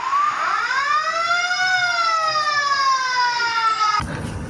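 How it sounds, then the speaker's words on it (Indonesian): A small red toy fire truck sounds its electronic wailing siren, one loud close rising-and-falling tone sweeping for about four seconds before cutting off abruptly. "ternyata ada mobil damkar."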